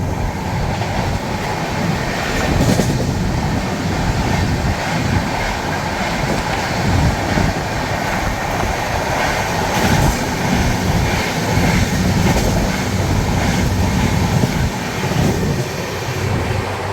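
Rajdhani Express on the Delhi to Mumbai route running at speed past Lalitpur Junction, heard from inside with a steady, loud rumble of wheels on rails and continuous rattling carriage noise throughout, with no talk.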